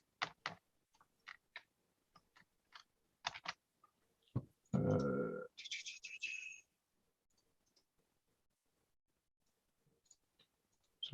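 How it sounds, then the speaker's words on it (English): Someone types on a computer keyboard in sparse, irregular clicks and short bursts of keystrokes, quiet and close, with a brief louder rustling noise partway through and near silence between the taps. "I'm typing at the same time."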